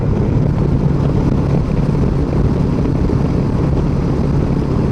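Royal Enfield motorcycle holding a steady 100 km/h on cruise control, a loud continuous low engine drone mixed with rushing wind, unchanging throughout with no voices.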